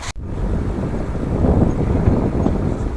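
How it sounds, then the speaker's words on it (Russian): A tailwind blows while cycling in Mongolia, giving a low, steady rumble and buffeting that swells a little midway. A sharp click sounds at the very start. "Радует хоть ветер попутный."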